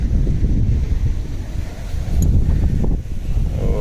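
Strong wind gusts across open farmland, blowing hard and steady into the microphone as a loud, rough rumbling roar with a brief rustle, no one speaking.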